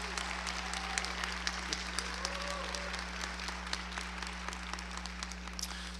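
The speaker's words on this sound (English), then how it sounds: "Give her another round of applause." An audience at a medical school lecture and white coat ceremony applauds in a sustained round of clapping, heard somewhat distant under a constant low electrical hum, with a few brief voices mixed in.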